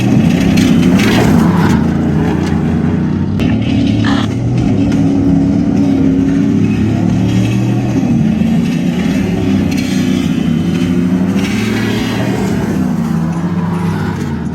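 A pickup truck on SVC long-travel suspension driving off-road, its engine droning and revving steadily and loudly throughout with rough road rumble and no talking.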